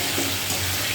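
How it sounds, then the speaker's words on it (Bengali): Potato pieces frying in oil with a little turmeric and salt, giving a steady, close hiss and sizzle with some stirring noise and no voices. "অল্প অল্প একটু হলুদ আর অল্প একটু লবণ দিয়ে আলুটাকে প্রথমে ভেজে নেব"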